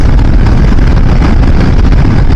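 A 2017 Yamaha Xmax 250 Bluecore scooter with about 60,000 km on it, tuned for more power, cruising at half throttle around 150 km/h. Steady engine drone is buried under heavy, constant wind roar on the microphone.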